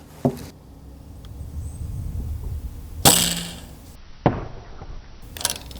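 Sharp pops of a Nerf blaster firing Sabre darts at a target, three distinct shots spaced a second or so apart, each with a brief mechanical clack and short trailing rattle in a quiet setting.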